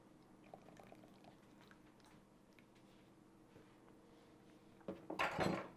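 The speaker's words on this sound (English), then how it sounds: "you're going to pour this liquid" Wet cookie ingredients for gluten-free chocolate chip cookies pour into a well in the dry mix, a faint low burble rising into a brief louder splashing rush near the end, with no talk over it.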